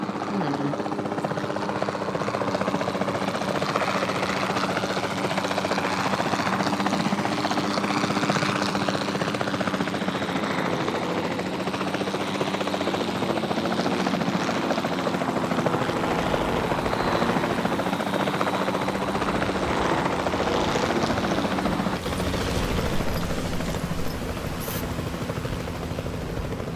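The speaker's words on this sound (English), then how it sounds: "Then the sensible thing is to take a capture team helicopter." A capture team helicopter flies overhead in a film scene, a dense continuous rotor and engine roar that stays loud and steady throughout.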